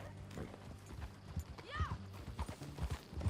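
Hooves clop in a steady run from a horse in Red Dead Redemption 2, close and fairly quiet, while people talk over the riding.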